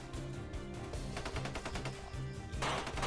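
Rapid bursts of gunfire crackle in quick succession during a tense standoff, the shots sharp but somewhat distant, with a louder burst near the end and no talk.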